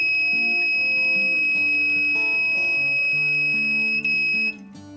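A 5V alarm buzzer wired to a latch relay and a laser diode sensor sounds a continuous, shrill, piercing tone for about four seconds, loud and close, then cuts off abruptly.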